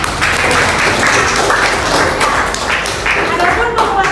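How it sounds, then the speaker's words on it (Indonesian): Classroom audience applauding after student presentations, a continuous patter of many hands clapping at close range for several seconds. "Beri aplaus untuk kita semua."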